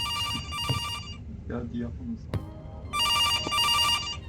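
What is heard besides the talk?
telephone ringing in video game September 2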